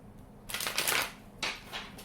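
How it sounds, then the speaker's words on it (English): A Santa Fe Tarot deck is shuffled by hand in several quick papery riffling bursts, close up and with no talking. "Let me shuffle a couple of times"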